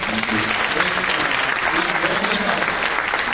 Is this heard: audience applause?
yes